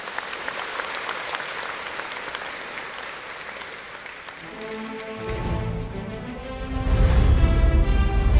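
An audience at a Korean cultural festival applauds National Assembly member Yu Seong-yeop. Clapping builds from a faint patter into a loud, full round of applause, and there is a swell of low sound from the crowd near the end.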